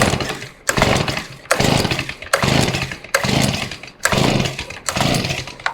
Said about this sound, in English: I've got it in full choke as we haven't started this unit yet. I'll go ahead and pull the rope here